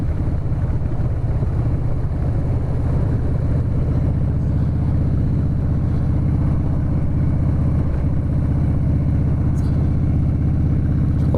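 A Harley-Davidson motorcycle on a ride, its engine a steady, loud low rumble that deepens and settles partway through, with wind noise over it and no gaps.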